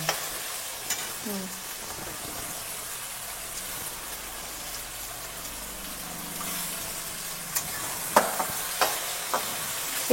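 Green beans (red papdi, lal shenga) sautéing in oil with onions, a soft steady sizzle with a few light stirring clicks and knocks toward the end.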